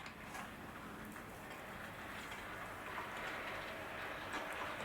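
A Heljan Class 54 model locomotive trundles round the track with a faint, steady rumble and soft clicking, distant and low throughout.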